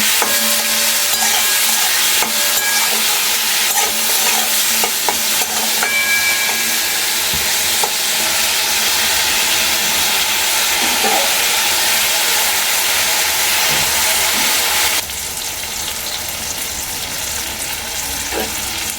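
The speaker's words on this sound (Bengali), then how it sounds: "এবার ভালো করে পেঁয়াজকালিগুলোকে ভেজে নেব" Onion shoots with a little salt and turmeric stir-frying in a pan, a loud, dense, continuous sizzle and hiss heard close up. It carries on unbroken with faint stirring scrapes, then drops slightly in level near the end.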